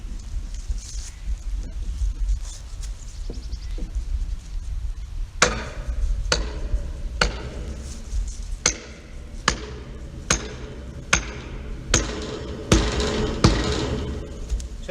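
A wooden raised garden bed stake is hammered into the ground outdoors, with about a dozen sharp, fairly close knocks in a steady rhythm after a few quieter taps.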